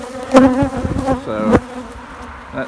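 Angry honey bees swarm close around a beekeeper's camera, their buzzing rising and falling as individuals zip past the lens, loud and near, with no talk.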